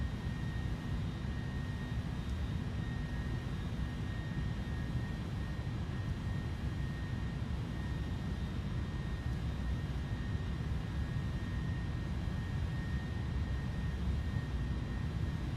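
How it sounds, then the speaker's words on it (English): Steady, loud, unbroken roar of an airliner's jet engines at takeoff power in a flight simulator game, a constant broadband rumble with a faint high whine running throughout, no talking. "successful takeoff at the second attempt"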